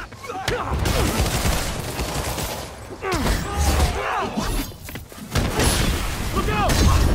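Gunfire bursts in Marvel's Spider-Man, a steady crackle of shots with heavy booms, loud and continuous under game music and character voices shouting.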